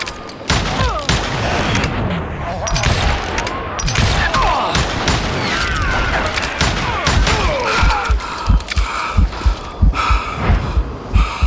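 Rapid gunfire in Call of Juarez: Gunslinger, a dense Western shootout with a flurry of overlapping shots early on, then loud, separate sharp reports spaced out toward the end, alone without talk.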